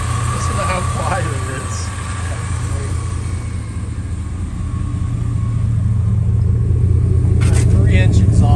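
A 1989 Chevrolet Suburban junkyard truck runs with a 3-inch exhaust, giving a loud, steady low rumble that swells slightly toward the end, with people talking over it.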